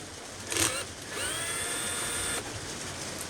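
A T27 Torx driver whirs briefly and then runs steadily for about a second, loosening a bolt during radiator cover installation on a Can-Am Outlander XMR ATV, close and moderately loud in a quiet space.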